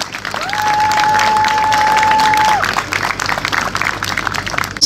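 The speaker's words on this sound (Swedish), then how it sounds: "ger dem en stor applåd" A crowd at a folkrace event applauds the C-final drivers with sustained clapping that holds steady for a few seconds, while a loud sustained electronic tone rings over the start and fades as the clapping thins.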